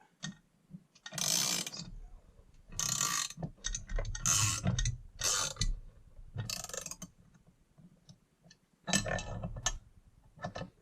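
A ratchet wrench turns a bolt on a Farmertec G660 chainsaw case during assembly, heard as quiet bursts of rapid clicking repeated several times with short pauses between strokes.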